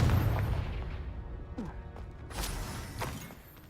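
A Confringo blasting spell goes off in Hogwarts Legacy, a short series of quiet booms and crashing bursts spread across a few seconds with scattered smaller impacts.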